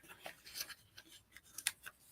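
Paper tabs for a desk journal are creased and folded by hand without a bone folder, giving faint, close rustles and crisp scraping rubs in short irregular bursts, with no talk.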